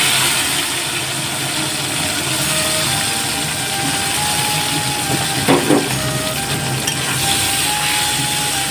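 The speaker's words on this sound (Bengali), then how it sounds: "উচ্ছেটা ভাজা ভাজা করে নিতে হবে।" Pieces of bitter gourd rubbed with salt and turmeric fry in hot oil, giving a loud, continuous hiss and crackle with a brief bubbling flare partway through, no one speaking over it.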